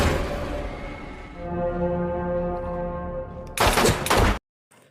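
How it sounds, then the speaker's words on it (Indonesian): Loud bursts of gunfire in an action film about police fighting hitmen erupt near the end, following a sustained tonal, horn-like drone, then cut abruptly to silence. "langsung melancarkan aksinya dengan menembak mati Sersan Komen dan juga Jack."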